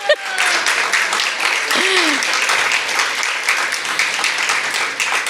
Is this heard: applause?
yes